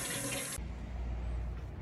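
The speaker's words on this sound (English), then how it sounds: "I flush this, he's flushing good." A hotel toilet flushes with a loud rush of water that cuts off abruptly, followed by a steady lower gurgling refill, close by with no talk.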